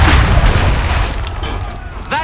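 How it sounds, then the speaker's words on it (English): A single cannon shot from the Assassin's Creed 3 video game opens with a loud, heavy boom that decays into a rumbling tail, with game voices faintly underneath. "I don't know how the hell I'm supposed to take out this many people with a single cannon."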